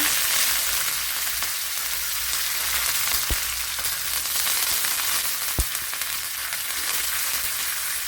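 Dried red chillies and curry leaves sizzle loudly in hot oil with mustard seeds while tempering for a pumpkin pulissery. The frying is steady and close, broken by a couple of sharp pops.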